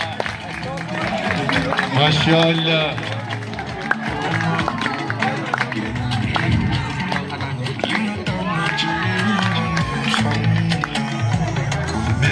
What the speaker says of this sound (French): Mais les applaudissements pour ça.